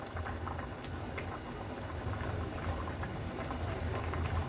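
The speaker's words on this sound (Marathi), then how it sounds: "कालवणाला पण छान उकळी आली आहे।" Mackerel curry boils on a high gas flame, giving a soft, steady bubbling patter with small irregular pops, faint and close, with no voices.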